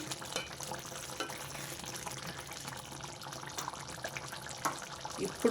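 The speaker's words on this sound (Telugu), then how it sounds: "చూసారా పులుసు ఎలా కుతుకుతా ఉడుకుతుందో" A bitter gourd tamarind stew (pulusu) bubbling as it boils in a pot, giving a soft, steady crackle and burble with occasional small pops, fairly faint and close, with no talking.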